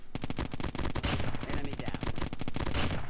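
Rapid automatic fire from the Cordite gun in COD Mobile, a loud, dense, evenly spaced burst of shots continuing almost without pause from start to end.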